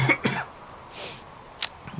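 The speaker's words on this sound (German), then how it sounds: "Mögt ihr mir das Husten verzeihen?" A few short coughs spread across a couple of seconds, fairly close, with quiet pauses between them and no talking.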